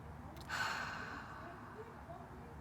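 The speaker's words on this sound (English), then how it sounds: "for the sake of this video, we're going to be doing conscious breathing" Deep, deliberate conscious breath during a guided breathing exercise: a sharp gasping inhale, then a long, steady, fairly close airy exhale that trails on to the end with no talking.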